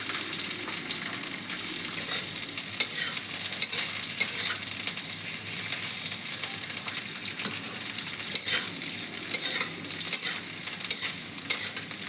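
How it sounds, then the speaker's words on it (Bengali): Pea pods fry lightly in a pan with a steady, close sizzle and crackle, broken by occasional scrape-like stirring taps, running evenly throughout with no voices. "হালকা একটু ভেজে নেব, তাহলে মটরশুঁটির পাতাতে খোসাটা কাঁচা গন্ধটা আর থাকবে না"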